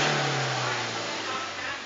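A Toyota Vigo pickup engine with a fault that puts out white-black smoke, revving hard and steadily close by for the whole stretch, loud and rough with a low droning tone, no voice in the clip.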